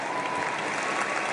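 Sustained audience applause at a Benjamin Netanyahu speech, a thick, constant wall of clapping from a large crowd with no break or speech over it.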